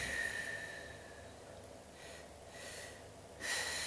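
Deep breathing during a breathing exercise comes through as several slow, airy inhales and exhales, close and soft, with a stronger breath near the end and no talk.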